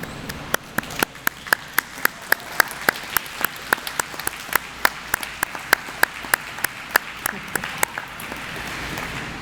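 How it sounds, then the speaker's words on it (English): Graduates at a GED recognition ceremony applaud their supporters in the audience, a sustained round of clapping in a large hall with distinct individual claps standing out in a steady patter, moderately loud throughout. "look into the audience and applaud those people who were there to support you"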